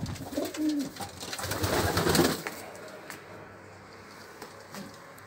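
Pigeons cooing inside a backyard coop, a few soft low coos in the first couple of seconds amid rustling, then fading to quiet ambience.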